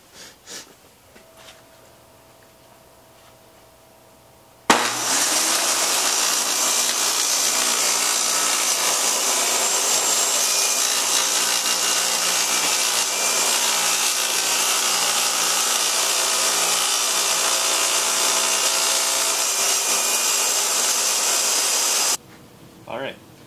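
A table saw crosscuts wood on a homemade wooden sled, opening with some quiet handling noises before a loud, sustained whine and rasp of the blade for about seventeen seconds, then cutting off sharply to near silence.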